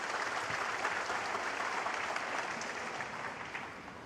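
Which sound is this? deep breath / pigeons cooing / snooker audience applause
snooker audience applause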